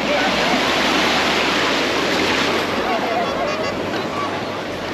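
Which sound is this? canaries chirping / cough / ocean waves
ocean waves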